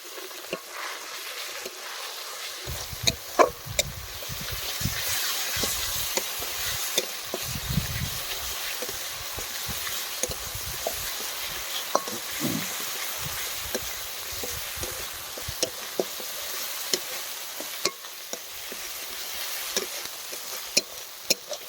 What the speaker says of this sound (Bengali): এখন হালকা পরিমাণ জল দিয়ে মশলাগুলোকে ভালো করে কষিয়ে নেবো